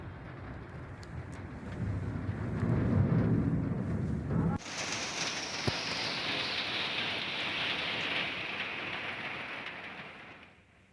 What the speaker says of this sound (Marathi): रत्नागिरीमध्ये काल रात्रीपासून संततधार पाऊस सुरू आहे